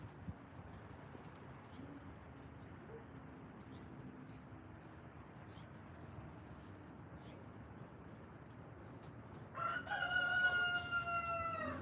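A rooster crows once near the end, loud and fairly close, after a stretch of low background rumble and faint outdoor noise at a 150-mile race.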